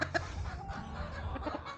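Chickens cluck in short, soft bursts at close range, a quiet cluster of farm-bird calls over a low background hum.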